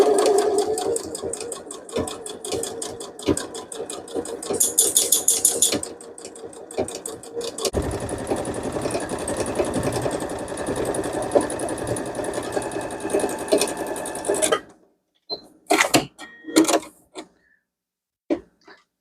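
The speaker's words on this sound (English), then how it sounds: "And we'll go to the sewing machine." A home sewing machine tacks down keychain pieces in fast, steady mechanical stitching that runs for several seconds, then stops and gives way to a few short clicks and handling noises.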